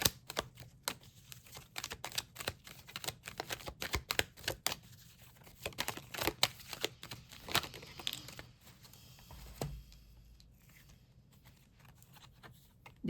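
Tarot cards shuffled by hand close up, giving a steady run of crisp riffling, snapping and papery crinkling ticks, with brief pauses and no voices.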